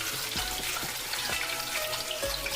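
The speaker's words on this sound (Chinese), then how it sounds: "热锅放油，将鲫鱼下锅开始煎" Two scored crucian carp fry in hot oil in a heated wok, a dense close sizzle dotted with quick pops and spatters, steady and loud throughout.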